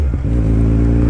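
A Kawasaki Z1000 motorcycle revs hard on a city avenue, its engine growling loudly and close, with clattering exhaust pops near the start before the deep rumble holds steady.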